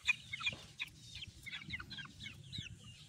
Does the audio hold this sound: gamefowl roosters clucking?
yes